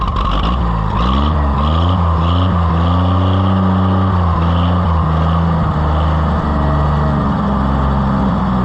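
An Oliver 880 tractor engine revs up and down as the throttle is swept across its full range, a loud, continuous rumbling drone whose pitch rises and falls repeatedly, with no talk over it.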